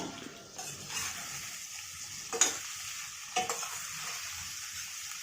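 Cut bitter gourd frying and being stirred in a pan for a bitter gourd gravy, a steady sizzle with a few sharper scraping strokes of the spoon, close and moderately loud, no talking.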